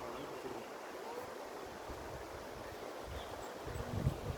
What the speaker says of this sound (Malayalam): പുഴ ഒഴുകി പോകുന്നുണ്ടോ അടിപൊളിയായിട്ട്.